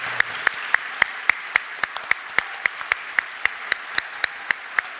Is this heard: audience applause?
yes